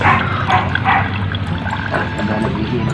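A person urinates into a glass, producing a close, steady liquid trickle and pour with a low background rumble, continuous over several seconds.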